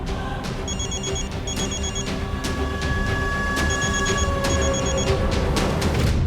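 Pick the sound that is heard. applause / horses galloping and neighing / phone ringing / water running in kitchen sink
phone ringing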